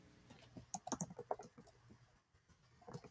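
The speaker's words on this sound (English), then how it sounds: "we're typing secret notes back and forth to each other." Rapid keyboard typing in a quiet room, a burst of close clicking keystrokes with uneven rhythm that trails off into a pause before a few more taps.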